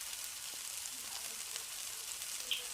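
Bread snack frying in hot oil in a pan, a steady soft sizzle that runs throughout at low volume, with no talking.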